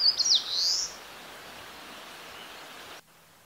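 A Sendai leaf warbler gives one short, thin, high call at the start against steady stream-like background noise in a Hyogo woodland; the call stops after about a second.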